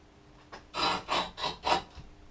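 A file or sharpening tool rasps across the cutting blade of a cylinder mower in four steady, evenly spaced strokes, each a loud gritty scrape, close up with no talking.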